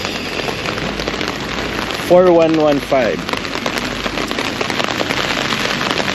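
Steady rain patters on a hard surface throughout, at an outdoor bank repossessed car sale, with a brief burst of someone talking partway through.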